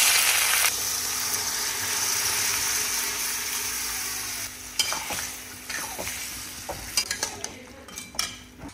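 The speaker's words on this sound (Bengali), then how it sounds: "ফোড়ন করে নিয়েছি, এবার পেঁয়াজ কুচি দিয়ে দেবো।" Chopped onion goes into hot oil after the tempering for ghugni masala, giving a loud steady sizzle that softens and becomes crackly, broken by intermittent clicks and scrapes from stirring in the later seconds.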